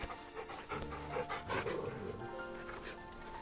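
A dog pants in quick rhythmic breaths in Final Fantasy XVI, close and clear, with a faint whimper and soft game ambience underneath.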